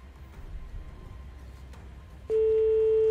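Quiet room hiss, then a single steady electronic phone ringing tone begins abruptly and holds loud and unbroken to the end, the first ring of a call in a prize draw.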